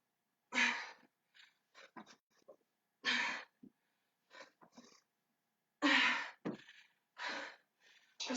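Heavy, ragged breaths during a home workout, bursts of forceful exhales and gasps separated by short pauses, close to the microphone and fairly quiet, with no talk.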